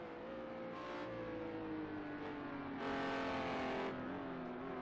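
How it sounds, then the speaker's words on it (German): Renault GT3 race car engine in a racing video game at Algarve, a loud steady engine roar with rising, shifting harmonics as it accelerates, brighter bursts of revving throughout, no talking. "Und der Renault ist unheimlich laut irgendwie."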